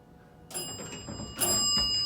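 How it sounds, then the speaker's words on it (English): A Montgomery hydraulic elevator in a Lake Forest, Illinois building rings its bell as the door closes, two bright ringing chimes over a soft mechanical rumble and door movement in a quiet space. "I like how the bell goes off when the door closes."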